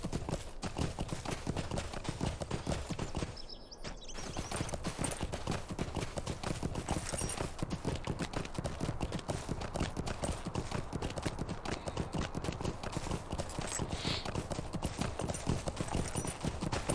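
Rapid, rhythmic horse hoofbeats clip-clop steadily at close range in the online game LOTRO, a continuous galloping patter with a brief pause near four seconds and no talking.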